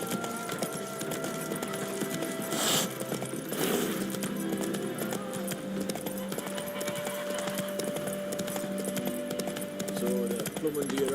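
The horse Roach's hooves clip-clop at a steady walking rhythm in The Witcher 3: Wild Hunt, with harness jingling and occasional louder hoof strikes, under ongoing dialogue and background music.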